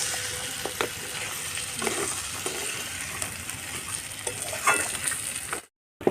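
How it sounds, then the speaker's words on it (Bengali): A fish head fries in a spice paste with a dense, crackling sizzle and occasional scraping stirs, close by, before cutting off abruptly at the end. "এবার ভেঙে রাখা মাছের মাথাটা দিয়ে দেবো"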